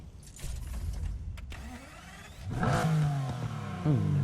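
Quiet idle noise, then a Nissan GT-R R35's twelve-cylinder engine in a racing video game revs up sharply twice, a loud rising exhaust roar with a brief pause between bursts.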